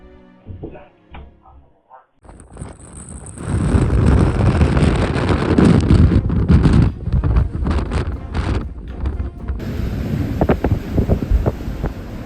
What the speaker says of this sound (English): this man had to fight strong winds, heavy snow, and near zero visibility to make it back safely